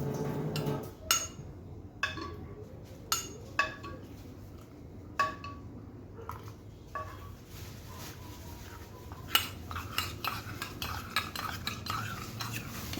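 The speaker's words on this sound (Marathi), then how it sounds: "त्यामध्ये आता आपण थोडेसे दूध काढून घेऊया आणि याची फाईन पेस्ट तयार करून घेऊया." A spoon clinks and scrapes in a bowl, stirring vanilla custard powder with a little milk into a smooth paste, with quiet, repeated taps and steady swishing up close.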